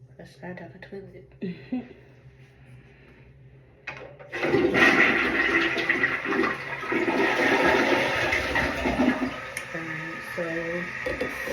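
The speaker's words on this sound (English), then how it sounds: "Flush that down the toilet." A toilet flushes after a post-op follow-up, starting with a sudden loud rush of water that swirls and drains steadily for several seconds, following quieter handling sounds and a brief chuckle.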